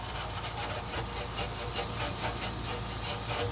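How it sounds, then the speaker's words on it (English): Bristles of a Daytona Speedmaster wheel brush scrub against brake rotors inside a car wheel rim, a steady harsh rhythmic rasping like sawing, fairly quiet and close, with no talk. "That's just the bristles going against the rotors and stuff."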